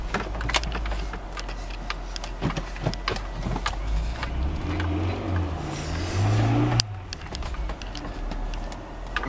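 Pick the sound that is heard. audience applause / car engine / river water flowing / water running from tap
car engine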